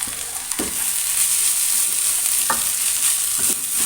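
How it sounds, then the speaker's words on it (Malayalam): Chicken filling with coriander leaves being stirred and mixed in a pan for a stuffed porotta snack, with a steady background sizzle and a few distinct scraping strokes of the spoon, close by and with no talking. "നന്നായി അതൊന്ന് മിക്സ് ചെയ്തെടുക്കാം"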